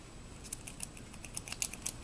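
Quiet, close snipping clicks from dull scissors cutting yarn, several small cuts in quick uneven succession over faint background hiss.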